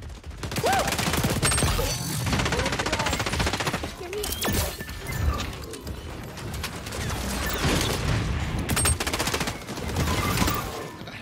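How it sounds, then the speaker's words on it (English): Rapid gunfire and bursts of shots in the XDefiant shooter game, dense, loud volleys with brief pauses and sharp cracks. "Headshot noise"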